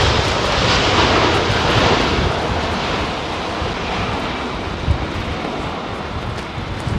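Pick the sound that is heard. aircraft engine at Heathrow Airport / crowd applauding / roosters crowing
aircraft engine at Heathrow Airport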